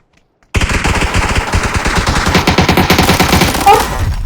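Rapid automatic gunfire from a player's favourite weapon in a video game, a dense rattling stream of loud shots starting abruptly after brief silence and continuing without pause.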